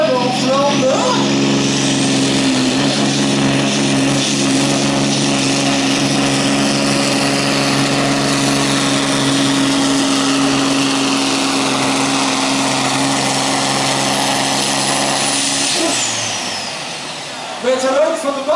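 A Volvo pulling truck at a 2017 truck-pulling event in Rijsbergen drones loudly and steadily for many seconds, with a sustained high engine roar that fades near the end. A commentator talks over it.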